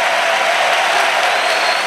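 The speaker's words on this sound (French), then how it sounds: "Clap offering." A church congregation claps together as an offering during a worship service, a dense, steady wash of many hands filling the room at a loud level without pause.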